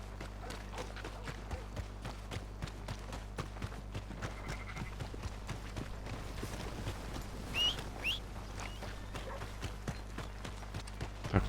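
Quiet, rapid clip-clop of horse hooves beating steadily over a low hum, with a few faint bird-like chirps mixed in, from the video game Red Dead Redemption 2.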